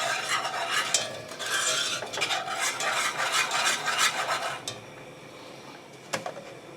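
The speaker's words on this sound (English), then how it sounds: "2 cups of milk, whisking it in." Milk is whisked into chocolate banana pudding in a bowl with rapid rhythmic scraping and swishing, close and busy, easing off toward the end with a couple of sharp taps against the bowl.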